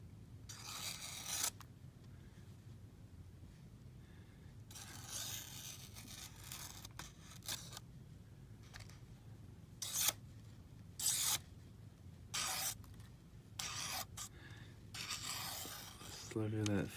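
A sharpened Böker knife slices thin receipt paper in a series of short, crisp rasping cuts and swipes, close and quiet, separated by low background hum.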